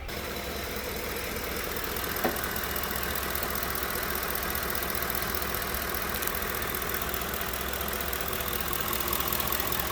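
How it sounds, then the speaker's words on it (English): A 2009 Ford F-150 with a 5.4-liter engine and about 250,000 miles idles steadily and a little shakily, a continuous close mechanical hum with no voices. "Now the engine doesn't actually sound that bad. I'm not hearing no rattles or anything out of the ordinary, but it is a little shaky."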